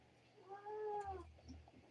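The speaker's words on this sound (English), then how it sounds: "I hear all these cats want to talk about love." A single cat meows nearby, one drawn-out tonal call rising and falling for about a second, over a low background rumble with no talking.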